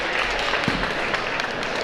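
Steady applause from an audience at a high school awards program for grades 9 through 11, a dense, even wash of clapping that holds for the whole moment without a break.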